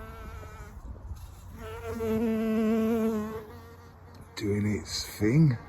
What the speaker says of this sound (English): And there's a bee, look,